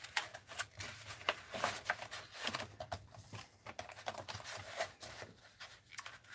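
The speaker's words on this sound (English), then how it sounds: "Let's cut a little of this off here." Scissors snip through glossy magazine paper for an art journal, a steady run of close, crisp cuts and paper rustles with no talking.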